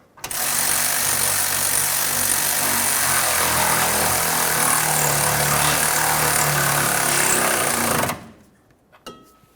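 A power impact wrench drives the upper rear leaf-spring shackle bolt on a 2001-2005 Ford Explorer Sport Trac, a loud, steady buzzing hammer lasting about eight seconds before cutting off, followed by a few faint clicks.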